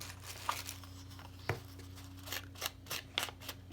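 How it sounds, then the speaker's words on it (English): Decorative scissors snip through paper in a few short, separate cuts, quiet and close, over a faint steady background hum. "they had a bunch of these decorative scissors"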